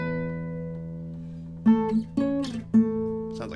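An acoustic guitar plays part of the Animal Crossing: New Horizons prologue melody, one sustained note ringing before three plucked notes spaced in a slow sequence, close and clear with no talking.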